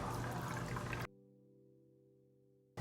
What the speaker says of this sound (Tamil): நான் 1 கப் தண்ணி சேர்த்துக்கிறேன்